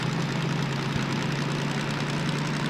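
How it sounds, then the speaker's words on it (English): Diesel engine of a BR Class 03 (DM3) locomotive in Derail Valley idling under load on a slippery uphill grade, a steady, loud low drone with constant throbbing rumble throughout. "this is a torquey engine"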